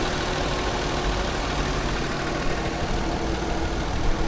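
A 2018 Lexus RX 350's 3.5-litre 2GR V6 engine idles, a steady, even hum heard up close with no talking.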